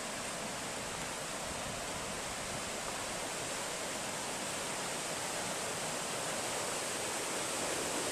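Steady, dense rushing of a high-running river, constant and fairly close, with no breaks or voices.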